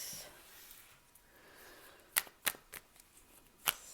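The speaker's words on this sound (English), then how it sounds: "I'm just shuffling cards for you" Tarot cards are shuffled in a few sharp, crisp flicks and snaps over a quiet background, spaced irregularly.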